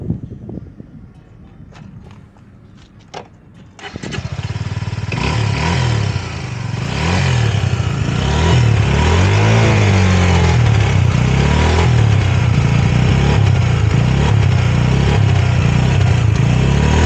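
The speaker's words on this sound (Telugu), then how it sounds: "ఇప్పుడు మనం ఇది ఓవరాల్గా బండి స్టార్ట్ చేసి సైలెన్సర్ సౌండ్ వినండి" A Suzuki V-Strom 250SX motorcycle fitted with a Gixxer 250 silencer gives a few faint clicks, then the engine catches and settles into a loud, steady, throbbing exhaust idle close by that builds slightly and holds.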